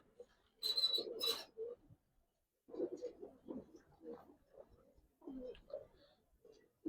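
Two female Gangchil pigeons give soft, low coos in short separated bursts, fairly faint and close, with quiet gaps between the calls.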